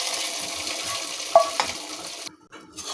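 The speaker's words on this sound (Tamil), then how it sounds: "நல்லா மிக்ஸ் பண்ணிக்கோங்க." Ginger, pepper and cumin stirred in a pan, a close continuous sizzle with a couple of sharp utensil clinks midway before the sound briefly drops out.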